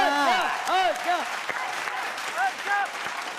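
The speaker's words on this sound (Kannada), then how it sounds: "ಎಲ್ಲರೂ ಚಪ್ಪಾಳೆ." An audience applauds during a comedy show, steady clapping running for several seconds while voices call out over it.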